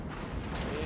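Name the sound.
battleship firing its guns, from video game World of Warships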